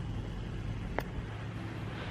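Steady low engine rumble of a car being driven slowly by a learner driver, heard from inside the cabin, with one brief tick partway through and no talking.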